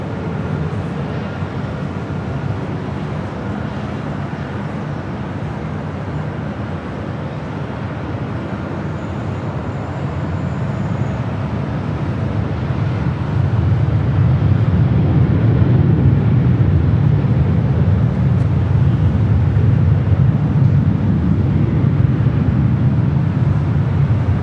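A Southwest airliner takes off from runway 24 left at LAX. A steady, distant roar swells about halfway through and holds loud to the end, with no talk.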